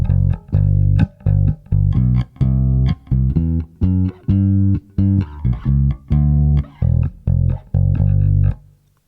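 A bass guitar plays the bass line of a song as a series of clean, distinct plucked notes with short gaps between them in a steady rhythm, played alone with no other instruments.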